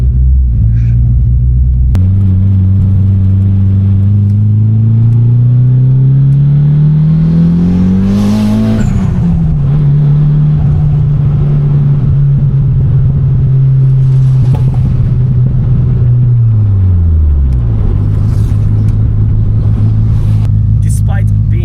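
Decat project car engine droning loudly and steadily while driving, with revs climbing smoothly, then dropping back as it shifts and settles, under continuous talk.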